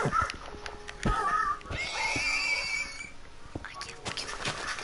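A horse in a blocky survival video game gives a couple of shrill, wavering neighs amid soft in-game background sounds, moderately loud and without speech over them.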